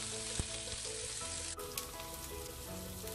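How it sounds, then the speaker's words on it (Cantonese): Pan-fried king oyster mushrooms, cooking in chicken fat with ginger, sizzle loudly and steadily as they turn golden and get flipped, with a brief knock partway through. "煎到金黃嘅時候反轉"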